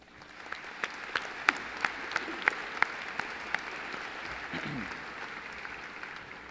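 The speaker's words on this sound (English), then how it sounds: "offer these individuals a round of applause for everything they have done" A graduation audience applauds in a soft, wide wash of clapping, with several sharper individual claps standing out in a loose rhythm before the applause fades.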